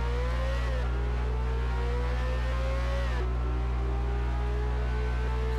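A V6 turbo race car engine in a video game revs around 6,000 RPM at Indianapolis, a loud steady droning whine with brief pitch dips as it shifts, heard alone.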